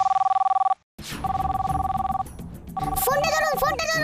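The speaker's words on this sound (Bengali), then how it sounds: "ফোনটা ধরুন" A cartoon telephone rings in repeated bright electronic bursts, pausing briefly and starting again, with playful animated voices chirping over the last ringing stretch.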